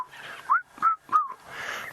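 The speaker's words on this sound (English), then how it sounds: "There's the red-chested cuckoo calling again" Red-chested cuckoo calling outdoors in African bush at sunset, three clear rising whistled notes in steady succession at moderate distance, with soft ambient birdsong around them.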